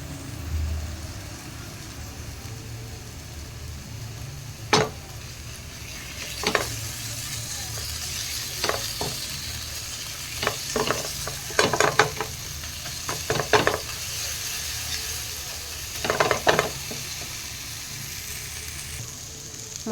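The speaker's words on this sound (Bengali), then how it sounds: "এরপর ভালো করে ভাজবো" Vegetable masala, coriander powder and kasuri methi frying in a pan give a low, steady sizzle, with scattered sharp clinks and scrapes of a spoon stirring against the metal in bursts.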